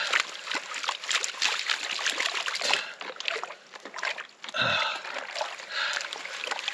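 Gold pan being rinsed in a stream: steady trickling and sloshing water, moderately loud and close, with a brief splash near the middle.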